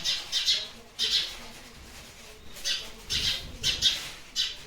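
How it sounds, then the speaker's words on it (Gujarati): Sparrows chirp in short, irregular bursts while building a nest, close and fairly loud, with brief pauses between the calls. "જે લટામાં ચકલા આવ્યા છે ને બાંધવા માંડ્યા છે ને"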